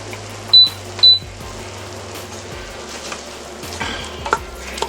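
Two pounds of hot Italian sausage browning over onions in a multicooker on sear mode give a soft, continuous sizzle under scraping and clinking of a utensil, with two sharp beeps near the start.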